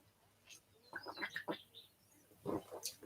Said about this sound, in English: Yeah, the birds here are nice.